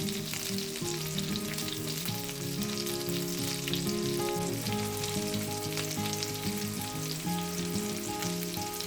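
Meatballs frying in a pan give a loud, steady sizzle throughout, close and unbroken, with faint stirring and no voices over it.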